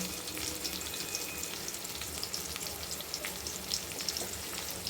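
Cleaned pirandai (veldt grape) stems fry in a hot, lightly oiled pan for chutney, making a continuous soft sizzle with fine crackling pops. The sound stays faint and even throughout, with no voices.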